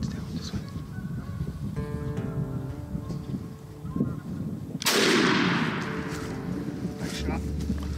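During a turkey hunt, a single loud shotgun blast rings out at a tom, sharp and close, its echo trailing off, while people talk quietly before and after amid outdoor background noise.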